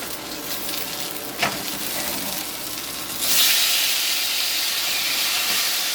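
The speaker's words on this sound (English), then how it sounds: "So now I'm going to add in my shrimp. They are medium-sized shrimp." Medium-sized shrimp for an omelet sizzle in a hot pan, a steady close frying hiss that swells louder partway through as more shrimp hit the oil.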